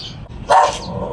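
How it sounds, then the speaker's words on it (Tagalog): A single loud, close dog bark cuts in about halfway through, short and sharp, preceded by a softer yelp and quiet outdoor background, with no voices. "Maingay yung aso mga ka-business."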